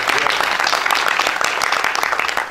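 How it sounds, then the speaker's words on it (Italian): An audience at a book presentation in Cirella claps steadily and densely for the full stretch, a close, loud wash of applause with no pauses. "Vi chiedo un applauso per Mario Pagano."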